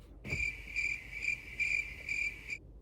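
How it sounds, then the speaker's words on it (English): Crickets chirp in a crisp, regular series of about six pulsed trills, bright and fairly close, with short gaps between bursts over a faint low background hum. "Crickets."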